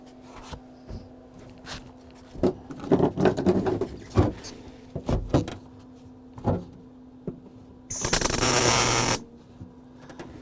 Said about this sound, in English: I'll walk the MIG welder back and forth just a little bit to bridge that gap.